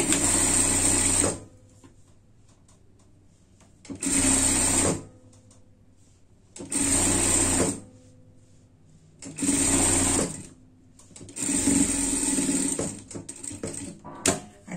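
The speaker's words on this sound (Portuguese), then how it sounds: "Costura com costura aqui, a gente passa uma costura de segurança." A sewing machine runs in five loud, close bursts, stitching a safety seam on fabric for a frog-costume pet outfit, with short quiet pauses between runs and no talking.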